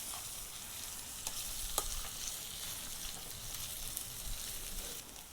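Ingredients for chicken curry sauté in a pan with a continuous soft sizzle and occasional stirring clicks, fairly faint and steady, with no voices.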